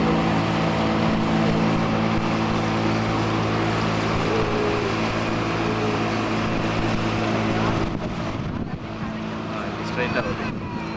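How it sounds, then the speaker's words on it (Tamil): A motorboat drones steadily on the water at Wisconsin Dells, its engine a loud continuous hum that shifts and fades near the end, with people talking over it. "பின்னாடி ஒரு போட் வந்தாரு"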